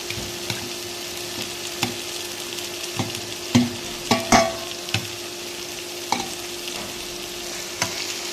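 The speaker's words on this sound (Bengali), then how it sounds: "এই মাছটাই আমি দিয়ে দেবো। এবারে মাছটা দিয়ে দিচ্ছি।" Small hilsa fish pieces go into a pan with bottle gourd and fry in oil, a steady close sizzle broken by a few sharp clacks and scrapes of the spatula as they settle and are stirred.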